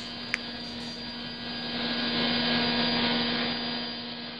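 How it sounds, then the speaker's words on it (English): A power saw cuts wooden panels to length and width for a cedar chest in a workshop, a loud, sustained whining drone that swells as the blade bites through the board. "he is cutting the panels to length"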